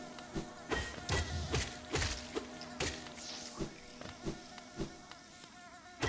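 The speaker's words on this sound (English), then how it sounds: "the bees I know will just come back" Buzzing insect drone from bees in the Hollow Knight video game, set against game music with repeated soft thumps and taps at an irregular rhythm, fairly quiet and with no talk.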